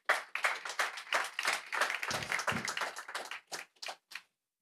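A small audience at a breakfast talk on sustainability claps, with distinct hand claps close together at first, then thinning out into a few scattered final claps.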